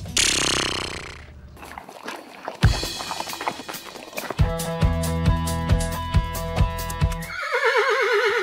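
A horse on a farm gives a loud whinny, followed by a run of clattering, knocking sounds. A second wavering neigh rises at the end, close and prominent.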